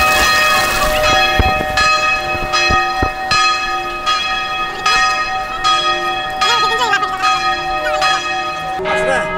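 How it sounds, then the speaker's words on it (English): Church bells ring out across Montreal, a steady series of bright, resonant chimes struck at roughly one-second intervals, with overlapping tones and sustained hum, loud and close over faint street ambience. "It's a lot of bell chimes."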